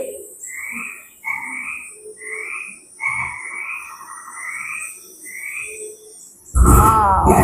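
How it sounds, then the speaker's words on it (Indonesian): A frog croaks in a repeated series of about eight evenly spaced, buzzy calls, clear and fairly close, before a louder burst of other noise cuts in at the end. "Ada kodok."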